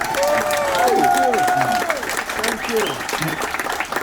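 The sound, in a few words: applause and cheering from cruise audience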